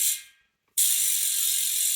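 Freewheel ratchet of a Hunt RE:NEW road bike wheel hub clicking in a fast, steady buzz as the wheel spins, close and loud, after a brief gap of silence.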